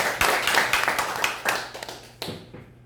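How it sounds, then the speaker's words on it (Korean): A Rotary club audience gives a short round of self-congratulatory clapping, sharp individual claps rising into a ragged burst and then thinning out to a few last claps before fading. "다시 한번 우리 자축하는 의미에서 박수 한번 치시죠"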